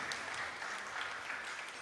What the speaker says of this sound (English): We'll give a big round of applause to welcome all those